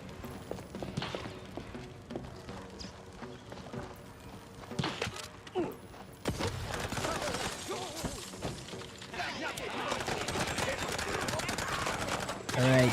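Scattered gunshots and sharp impacts in a cartoon-style detective shooter game, some close and others farther off, growing into dense, continuous firing and clatter toward the end, with game music underneath.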